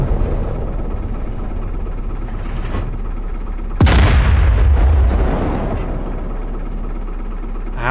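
Artillery shells blow up an ammo dump in the DCS World combat game, with one sudden, heavy boom partway through. A deep, roaring rumble runs continuously before and after the blast, loud and close throughout.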